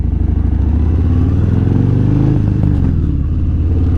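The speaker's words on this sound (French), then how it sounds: "je suis actuellement sur ma nouvelle moto," A 2019 Harley-Davidson Fat Bob motorcycle engine heard while riding, a loud, close, throbbing low rumble that rises slightly in pitch as the bike pulls, with no talk over it.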